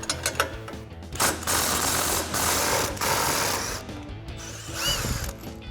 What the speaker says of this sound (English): we're gonna grab our impact 15 millimeter socket,